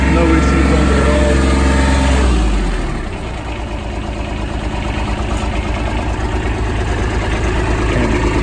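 A Kubota B26 backhoe tractor loader's diesel engine runs steadily at idle, loud and close, dropping to a lower, quieter idle about three seconds in and holding there to the end.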